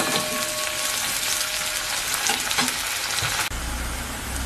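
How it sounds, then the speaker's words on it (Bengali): Chopped onion frying in oil, a close, dense and steady sizzle with a brief clatter near the end, with no voices. "পেঁয়াজটা কিছুটা ভাজা হয়ে আসলে দিয়ে দেব আলুটা।"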